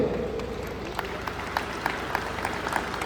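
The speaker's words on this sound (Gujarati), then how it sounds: "માનનીય કલેક્ટર ઉપાધ્યાય સાહેબને આપણે બધા તાળીઓથી એટલા માટે વધાવીએ" An audience applauds Collector Upadhyay at a felicitation ceremony in Kodinar, with a steady wash of clapping and some sharper individual claps standing out.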